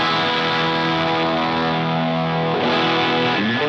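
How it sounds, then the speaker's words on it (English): Electric guitar played through a Boss DS-1 distortion pedal, a thick, saturated sustained chord ringing loud and steady, then a fresh chord struck near the end. "That's the overdrive, and the distortion."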